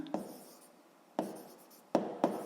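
A physics formula being written by hand, four short scratchy strokes at uneven intervals, faint and close, with quiet room tone between them and no talk.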